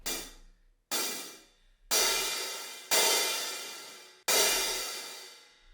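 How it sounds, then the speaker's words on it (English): Open hi-hat with the drummer's foot off the pedal, five loud, washy cymbal hits played alone, each ringing and sizzling for about a second before the next. "And this is the sound of an open hi-hat."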